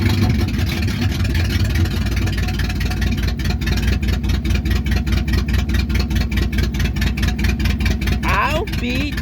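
A 1968 Ford 302 V8 idles slow with a low, steady, pulsing chug, close and loud, and a voice speaks briefly near the end.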